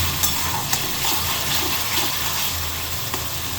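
Spice masala frying in oil in a pan while palak paneer is being cooked, giving a continuous close, hissing sizzle with a few faint clinks over it.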